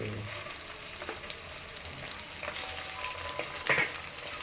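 Ginger, garlic and curry leaves frying in hot oil for a bitter gourd pickle, a steady close sizzle with occasional stirring scrapes and a brief louder clatter near the end.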